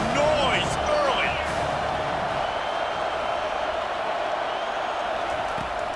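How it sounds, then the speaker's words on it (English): A stadium crowd roars steadily in a college football video game at Ole Miss, a constant loud wash of noise with a few whistle-like sweeps and thumps early on. "This crowd bringing the energy and noise early."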